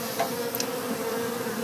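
Honey bees buzz in a low steady drone, close and continuous, with a couple of faint passing whines over the hum, during a colony removal from a wall.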